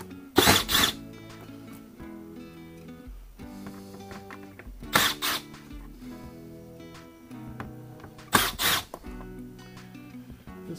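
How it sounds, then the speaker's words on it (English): A power driver removes screws during a motorcycle trunk lid organizer install, sounding three short whirring bursts spaced several seconds apart against quiet background music. "So we're gonna pull these three screws out."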